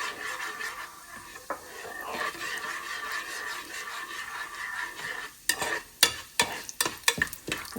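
Chana dal spatters in hot oil after mustard seeds for a lemon rice tempering: a soft continuous sizzle, then a run of sharp scraping stirs near the end.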